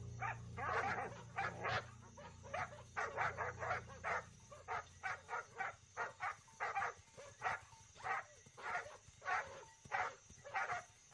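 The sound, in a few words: guard dogs barking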